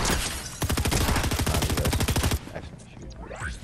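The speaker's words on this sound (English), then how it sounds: "There's shots up there, right?" Rapid automatic gunfire from the video game Fortnite, a loud sustained burst of evenly spaced shots for nearly two seconds, then quieter scattered game sounds and distant shots.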